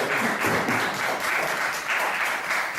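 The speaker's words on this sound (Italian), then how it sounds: "Facciamo un applauso a Dario" Steady applause from a music show audience, dense continuous clapping that fills the whole stretch without any voices.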